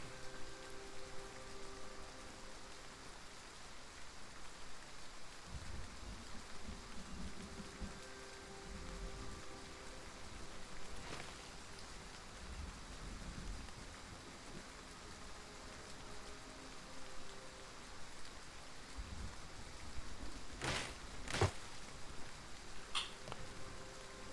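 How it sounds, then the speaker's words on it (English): Steady rain in the survival game The Front falls as a continuous even hiss throughout, with a few faint clicks and brief taps near the end and no talking. "Why do I still hear rain?"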